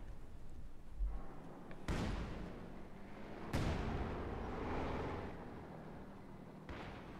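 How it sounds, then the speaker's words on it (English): Artillery bombardment in Company of Heroes 2: several heavy booming impacts land one after another over a rumbling battlefield bed, with long decaying tails after each blast. "Bit of bombardment going on"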